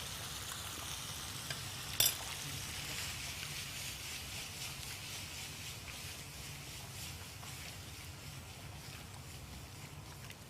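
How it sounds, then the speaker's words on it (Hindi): Potatoes roasting in masala for Rajasthani dum aloo, a constant low sizzle and hiss with one sharp clink near the start and occasional soft stirring scrapes. "अब इसको थोड़ा सा हम भूनेंगे"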